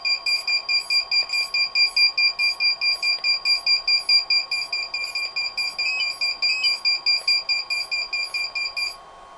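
A radio transmitter's beeper alarm sounds a steady, rapid train of loud, high electronic beeps, roughly three per second, close and alone before it cuts off.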